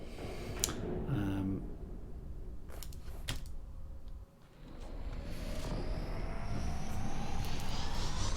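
A small fighter spaceship in the game SpaceBourne 2 hums with a steady engine roar that climbs slowly in pitch, with a few mechanical clunks early on as the landing gear retracts.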